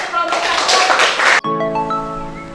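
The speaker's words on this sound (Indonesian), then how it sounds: "Beri tepuk tangan untuk kelompok" Applause from a class for a student presentation group in a vocational beauty course, a short burst of clapping that cuts off abruptly, followed by tonal sounds.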